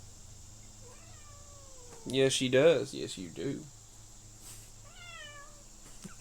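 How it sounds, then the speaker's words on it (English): A pet cat meows faintly in the background, a few drawn-out calls at the start and again near the end, while a person talks to her in between. "if you hear the cat in the background"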